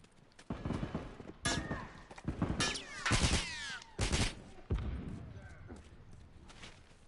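Shooter video game gunfire: several loud bursts of shots in uneven clusters, some crackling and sharp, over a background of game ambience.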